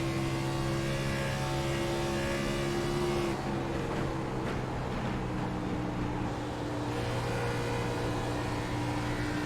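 Race car engine in a racing video game heard from the driver's helmet camera, a loud sustained drone with steady tones that shift slightly midway.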